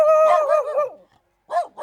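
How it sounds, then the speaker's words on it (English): Dogs at an animal sanctuary's kennels bark and yelp loudly and close by in a rapid burst, then fall briefly silent before a couple more sharp barks. "Lots of new kennels and lots of new dogs as well."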